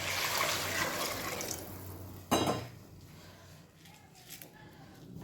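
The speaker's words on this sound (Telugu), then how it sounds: "ఇది వాటర్ వేస్తున్నాను" Water splashes into a cooking pot for pongal with a brief gush, followed by a quieter trickle and light clinks nearby.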